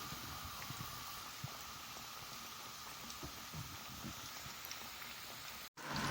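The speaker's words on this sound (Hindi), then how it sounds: "इसको हल्की आंच पर 5 मिनट तक पकाएंगे।" Chicken nuggets cook in a pan over low heat, a faint, even patter of tiny crackles and pops that runs steadily throughout with one brief dropout near the end.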